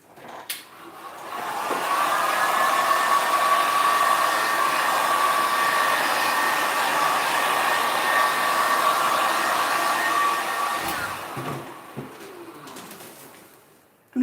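Hair dryer blowing on freshly poured paint on a canvas, a loud steady whooshing drone that runs for about ten seconds before clicking off, with faint bird coos nearby.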